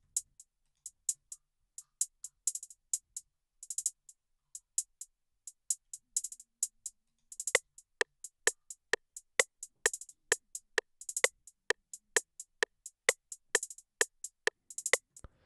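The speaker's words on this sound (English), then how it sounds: "the hi-hats, one thing I really like to do was to add a lot of velocity change" A programmed hi-hat pattern with strong velocity variation and no effects, crisp ticks in quick uneven rolls and steady pulses, quiet and dry, growing fuller and brighter about halfway through, with no voices.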